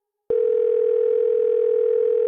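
A steady telephone dial tone sounds alone, loud and unbroken for about two seconds with a clean start and stop, heard before a call said to come from the Titanic.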